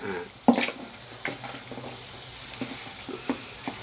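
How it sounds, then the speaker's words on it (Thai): Spring onions stirred into a sizzling northern Thai catfish dish, starting with a sharp clatter, then quiet frying hiss broken by small scraping stirs, close and fairly faint. "ต้นหอมนะครับ ใส่เข้าไป คนก่อนนะครับ คนก่อนนะครับ"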